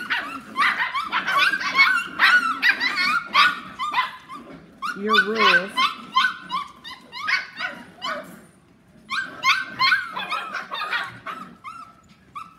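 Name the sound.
dog barking and whimpering during training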